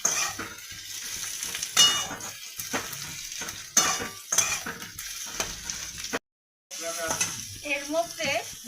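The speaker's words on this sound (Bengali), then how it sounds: "পেঁয়াজগুলো একটু লাল করে ভেজে নেব।" Onions frying in a pan for fish chop, sizzling under repeated clanks and scrapes of a metal spatula against the pan, close by, with a short gap of silence and brief voice sounds near the end.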